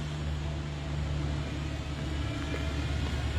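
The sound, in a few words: big lorry on the road nearby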